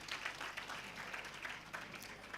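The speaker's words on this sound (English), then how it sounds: "Please clap for us" Applause from a lecture audience at an International Women's Day public lecture and inauguration, a steady, moderately distant wash of clapping lasting the whole moment.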